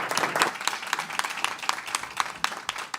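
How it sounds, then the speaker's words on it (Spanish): Audience at a political communication diploma lecture gives a round of applause, dense rapid claps running steadily for a few seconds, close and clear with little talk. "Concédelo en un fuerte aplauso, por favor."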